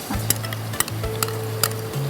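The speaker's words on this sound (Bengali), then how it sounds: "এখন আমি 1 কাপ পরিমাণ টক দই দিয়ে টক দইটা আমি একটু ফেটে নিয়েছি" Chicken pieces frying with a cup of whisked sour yogurt in a pan for a traditional shahi chicken dish, with steady soft sizzling and a few sharp spoon-against-pan scrapes as it is stirred, close and alone.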